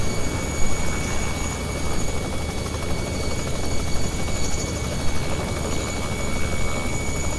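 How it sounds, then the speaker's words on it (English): Robinson R66 turbine helicopter in flight, heard from inside as a loud, constant turbine whine and rotor drone that fills the whole stretch without a break. "then I will disconnect and manually fly the helicopter and land when appropriate"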